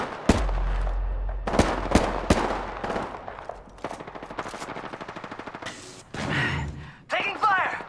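Gunfire in the video game Apex Legends: several sharp gunshots and a rapid automatic burst ring out close, mixed with game sound effects and brief voice sounds.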